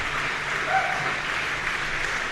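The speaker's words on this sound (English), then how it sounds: "I know the conference is wrapping up, so everyone's clapping." An audience at a Bigfoot conference applauds as the event wraps up, a soft, distant-sounding wash of clapping at a steady, moderate level.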